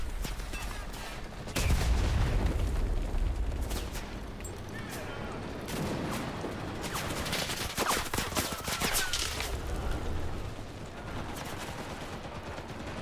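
Gunfire and artillery fire in a video game: repeated sharp bursts and booming volleys over a steady noisy battle din, with a heavy blast near the start.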